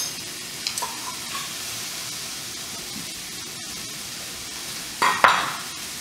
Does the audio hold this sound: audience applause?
no